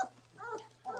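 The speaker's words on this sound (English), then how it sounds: "all these puppies get on top of me" South African Boerboel puppies whimpering close by, three soft, high, tonal whines in quick succession with short pauses between, faint against a quiet background.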